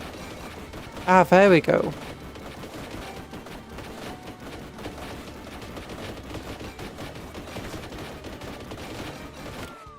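Rapid gunfire crackles continuously in a Warhammer video game battle, many small shots layered into a constant distant rattle, while someone briefly speaks over it.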